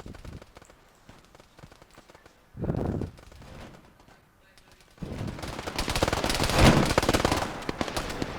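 Bursts of automatic gunfire in ARMA 3 military shooter combat, a short volley early then sustained heavy rapid fire through the latter half, with faint voices underneath.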